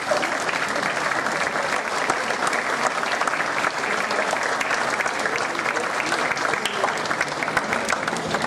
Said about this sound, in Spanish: a quien pido un aplauso